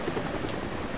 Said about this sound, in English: That's the helicopter chasing my friends.